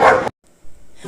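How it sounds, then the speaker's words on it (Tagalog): One loud, close dog bark heard by a cyclist riding past many dogs along a road, followed by a short silence and a fainter low growl or bark. "Di ko po inaasahan na maraming aso po pala ang aking madadaanan dito sa parte na ito."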